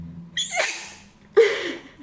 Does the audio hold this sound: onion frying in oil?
no